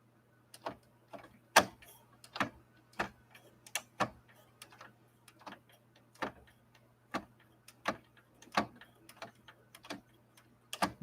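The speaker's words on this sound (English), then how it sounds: "See if we can lay down a fancy stitch on this." A New Home sewing machine stitches a decorative fancy stitch. Sharp clicks repeat steadily about twice a second over a faint low motor hum, with no talk.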